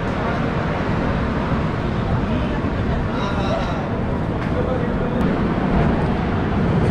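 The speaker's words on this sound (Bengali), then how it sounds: "ট্রেন ছেড়ে দিল কটক স্টেশন থেকে।" Humsafar Express train pulling out of Cuttack station, a steady loud rolling rumble and broadband clatter that stays constant throughout, with no talk.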